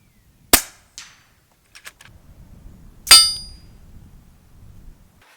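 An FX Crown MKII laminate air rifle in .22 or .30 calibre fires two sharp, cracking shots about two and a half seconds apart, each followed by a short metallic clink. Faint ticks fall between them, and quiet low rumble sits underneath.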